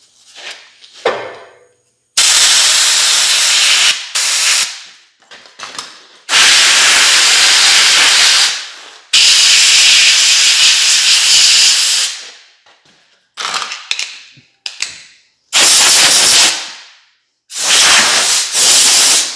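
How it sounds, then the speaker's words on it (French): Sandblasting on car seat bracket welds comes as loud bursts of harsh hissing spray, each lasting a few seconds, separated by short pauses and a few brief spurts. "Du jet de sable ou du sun blast, comme le monde dit."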